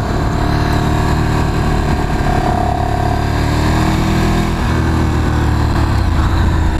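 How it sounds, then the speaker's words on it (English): A Ducati Streetfighter track bike's engine rumbles loudly and steadily while being ridden, a deep continuous drone with a slight rise in pitch partway through and wind rush over it. "it's got that deep Ducati rumble"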